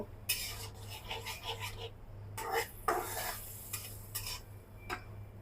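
Pumpkin being stir-fried and scraped in a pan for a Bengali sweet pumpkin vegetarian dish, with irregular close clinks and scrapes of a spatula against metal over a steady low hum, no talking.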